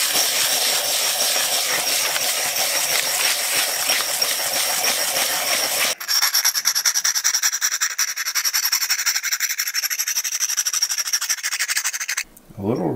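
A homemade guitar slide is sanded in circles by hand, giving a loud, steady, continuous abrasive rubbing that shifts to a thinner, scratchier grind partway through. A brief change comes near the end, and there is no talk.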